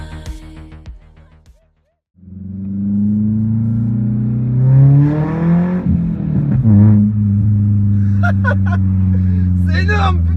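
A Peugeot S16 fitted with an RC Racing full exhaust line and running on ethanol revs loudly after a brief pause, its engine note climbing and falling through strong harmonic sweeps, with a voice heard faintly at moments.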